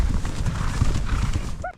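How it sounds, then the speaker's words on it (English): Horses on a spring horse drive across an eastern Arizona ranch, hooves clip-clopping steadily over open ground with a short whinny near the end, loud and close, with no talk. "Driving some 85 horses more than 60 miles over 3 days to their summer home at this historic ranch."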